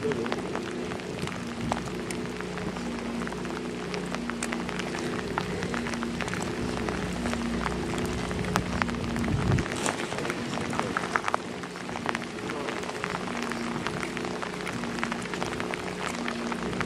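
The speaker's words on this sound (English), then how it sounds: "the rain is really starting to come down now" Rain falls steadily outdoors, a dense, even hiss of drops with a low murmur beneath and a few louder knocks and handling sounds close by.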